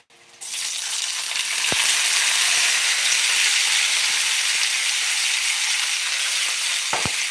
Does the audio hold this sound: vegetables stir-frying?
yes